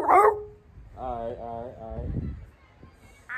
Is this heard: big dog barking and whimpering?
yes